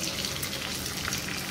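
Potato vadi frying in hot oil on a stove: a steady, dense sizzle and crackle that holds evenly throughout, close and moderately loud, with no talking.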